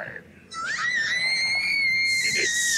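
A woman lets out a long, loud, high-pitched scream that holds and wavers for a couple of seconds.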